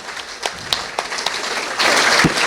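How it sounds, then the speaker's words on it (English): A live audience at Vale Park claps, starting with scattered distinct claps that thicken into a louder, denser burst of applause toward the end. "Big round of applause for Payne."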